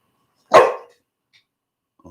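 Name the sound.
dogs barking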